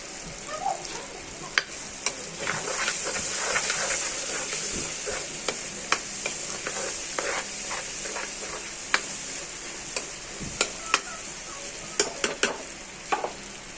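Tomatoes, curry leaves and onion tossed into hot oil in a pan for a Gujarati-style vegetable dish, a bright steady sizzle broken by frequent sharp spoon scrapes and taps against the pan, close and without talking.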